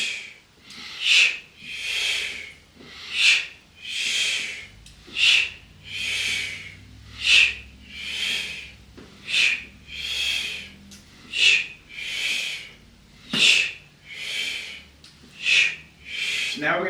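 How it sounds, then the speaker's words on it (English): Repeated 'shh' exhalations during seated yoga twists, a breathy hiss roughly every second, evenly paced and close, with soft inhales between them. "Exhale, making the sound shh as you twist to the left."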